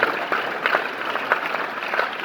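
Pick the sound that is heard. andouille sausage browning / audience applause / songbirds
audience applause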